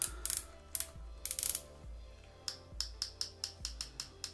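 Ratcheting clicks come from a baitcaster fishing reel fitted with an upgraded clicker, first in quick clustered bursts and then as a steady, evenly spaced run of sharp clicks, close by and without speech.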